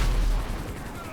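Gunfire from the video game GTA V erupts in a brief, dense burst of loud shots that fades within about a second, with no talking over it.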